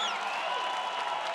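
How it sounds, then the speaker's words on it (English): Home crowd at a women's American football game in Western Australia, a dense wash of applause and cheering from a large stand, steady and loud with whistles rising over it. "The crowd has got the hometown crowd is going well tonight"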